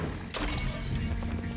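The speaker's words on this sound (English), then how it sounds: "Makes a gross wet noise when you slap those walls to death." Slapping the fleshy walls in the video game Sundered gives a faint, squelchy wet splat that hits sharply after a brief quiet moment, then trails into a messy crunching texture with no voices.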